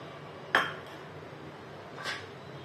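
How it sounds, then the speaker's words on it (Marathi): A spoon stirs crushed peanut powder into a pan of drumstick pods cooked without onion or tomato, giving two brief metallic clinks about a second and a half apart against a quiet background. "छान मिक्स करून घ्यायचं"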